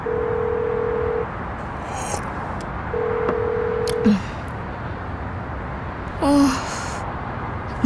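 Telephone dialing tones beep in two sustained bursts, followed by a short tone burst near the end, over a steady hiss of background noise. No one speaks.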